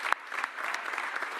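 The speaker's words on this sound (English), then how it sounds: "Give Howie a round of applause." A parade crowd celebrating the Philadelphia Eagles' Super Bowl win breaks into a short burst of applause for general manager Howie Roseman, opening with one sharp clap and then settling into steady, dense clapping.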